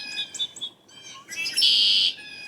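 Wild birds sing in spring, with high bright chirps and trills in quick bursts and a longer loud whistled note near the end, close and clear over a quiet background.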